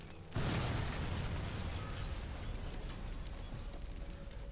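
A cannon fires in the World War II shooter game Sniper Elite 4, a sudden loud blast followed by a long, dense rumbling tail that slowly fades out.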